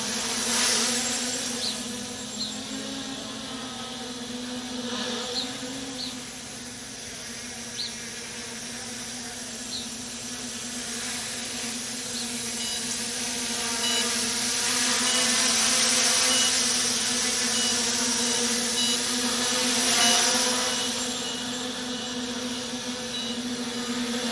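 Small MJX Bugs3 quadcopter drone in a Bugs6 shell buzzing over a front lawn on a test flight, a steady whining drone hum rising and falling in pitch as it moves, mid-distance, no talking.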